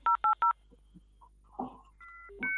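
Fax machine dialing tones: three sharp, evenly spaced beeps, then a few scattered softer tones and higher steady tones, fairly close and clear.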